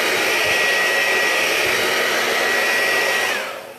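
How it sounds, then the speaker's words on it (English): A hair dryer blows over chalk paste, a loud, steady whooshing roar with a constant whine, running close up for a few seconds before the motor winds down at the end. "You can use your hair dryer"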